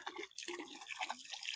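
Water discharging from hoses back into a pool in a home brewing hot-water system, a steady splashing, trickling flow with dripping texture, close and moderately loud throughout.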